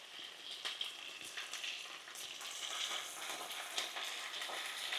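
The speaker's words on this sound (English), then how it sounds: "Just going to stir that in, get it all coated up." Pork belly curry being stirred in a hot pan, a soft continuous sizzle with faint scraping strokes of the spoon, quiet and close, with no voices.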